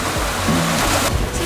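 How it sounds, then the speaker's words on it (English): Ocean water rushes and churns continuously around a naked person dragged at 5 knots behind a sailboat, a loud, close, steady wash with splashing surges and no talking. "Being dragged at 5 knots naked in the ocean."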